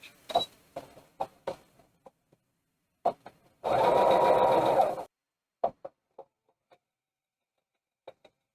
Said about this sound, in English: make sure you do a couple stitches forward and do a back stitch